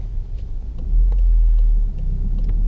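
Low, rumbling car engine in first gear during a driving lesson, heard from inside the vehicle as a steady close drone that swells slightly midway.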